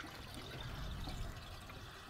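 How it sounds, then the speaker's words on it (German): Fuel poured into a car's tank, a steady close liquid gush and gurgle running continuously without a break, with no talking. "deswegen fülle ich jetzt einfach mal 5 Liter rein hier oder 10"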